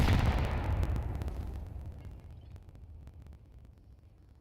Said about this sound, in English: Nice little nade onto Dash.